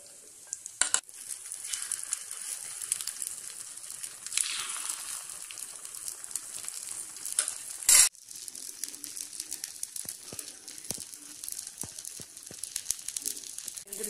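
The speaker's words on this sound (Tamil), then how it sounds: "இதில் அப்படியே ஒவ்வொரு குழிக்கும் நம்ம ஊற்ற வேண்டியது தான்." Beaten egg batter frying in a hot, lightly oiled paniyaram pan, a steady close sizzle with faint crackles throughout, briefly broken by a sharp metallic clank partway through.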